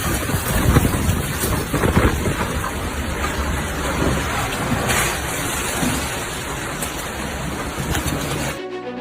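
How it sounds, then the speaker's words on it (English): Thunderstorm with strong wind gusts and rain hitting the Swiss town of La Chaux-de-Fonds, a loud, continuous roar of wind buffeting and rain noise over the whole stretch, cutting off abruptly at the very end. "Thunderstorm with wind gusts of over 60 meters per second hits Swiss town of La Chaux-de-Fonds."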